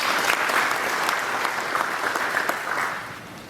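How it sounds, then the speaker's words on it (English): An audience at a bank system launch event in Juba applauds, a dense steady clapping from a crowd that fades slightly toward the end. "I will appreciate if you can just give a round of applause to him"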